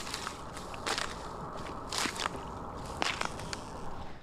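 Thin ice on a deep roadside puddle cracking and crunching in a few sharp, close bursts over steady outdoor background noise during a Louisiana freeze.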